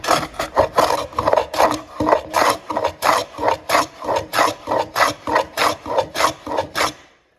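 A Stanley 45 combination plane cuts into wood in about sixteen steady, rhythmic rasping strokes. They are close and fairly loud, with no talk, and stop abruptly at the end.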